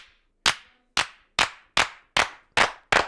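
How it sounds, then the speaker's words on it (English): Single clap sample triggered repeatedly in music production software, seven sharp dry hits at a steady, slightly uneven pace with short decays and silence between. "Because now we got a file selected, which is a clap file."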